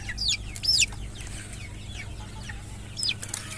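Young rooster chicks about 25 days old give high, thin clucking calls in short bursts, loudest at the start and again near the end, over a low steady background hum.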